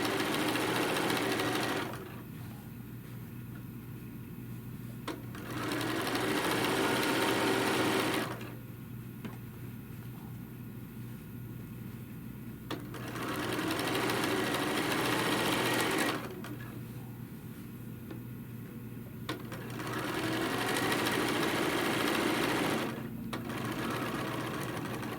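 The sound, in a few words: sewing machine top stitching a tote bag panel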